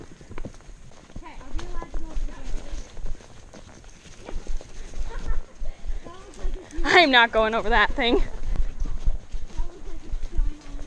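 Hooves of a horse named Birdie clip-clop slowly over rocky ground near a bridge, steady and close, with a rider talking over them and breathing heard throughout.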